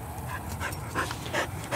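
A bird dog at a park pants close by in quick, rhythmic breaths, with a few short whimpering bursts. The sound is fairly quiet and there is no talking.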